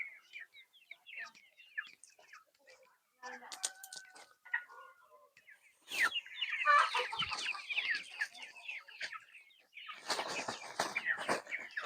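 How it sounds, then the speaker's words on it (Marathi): Desi free-range poultry in a village farm shed cluck and chatter while feeding on azolla, with scattered crows and busy overlapping calls that grow denser in bursts. "किती आवडीने कोंबडे यामध्ये बघा किती आवडीनं आजोला खात आहेत"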